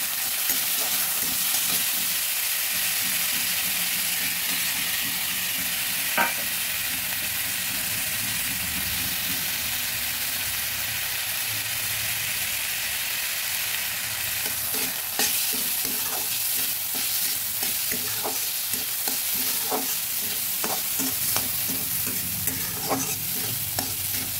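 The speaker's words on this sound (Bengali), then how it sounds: "হালকাভাবে ডালগুলো ভেজে নিলাম।" Washed, drained red lentils (masoor dal) lightly frying in oil in a pan: a continuous soft sizzle with scattered clicks and scrapes of stirring throughout.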